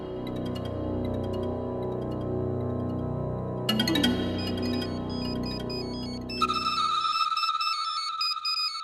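An electronic phone ringtone plays a repeating melodic pattern, shifting to a brighter, higher tune partway through, with no talking over it.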